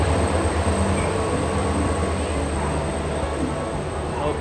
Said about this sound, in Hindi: यहाँ पर कोई तो भी ट्रेन आ रही है WDP 4 के साथ।